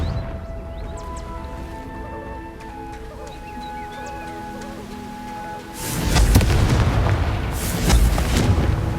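A Confringo spell in Hogwarts Legacy bursts into a loud, sustained fiery explosion that erupts suddenly after a quieter stretch of ambient tones and swells into rumbling booms.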